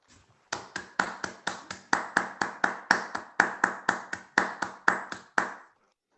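Roughly twenty sharp, evenly spaced claps in a steady rhythm, close and clean, as an audience marks a passed resolution at a European youth parliament general assembly.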